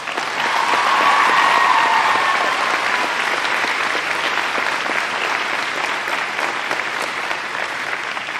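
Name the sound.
graduation audience applause for anthem singers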